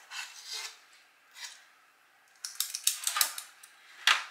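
Pineapple cookie dough is scooped with a spoon and set onto a baking sheet, producing close intermittent scraping and rasping strokes that grow denser toward the end.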